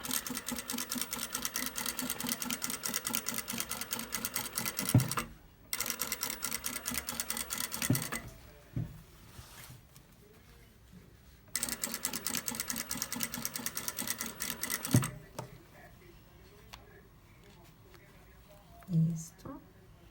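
A sewing machine stitching fabric for a flared skirt runs in three long steady bursts of fast, even needle chatter, separated by pauses with someone talking and the rustle of fabric being handled.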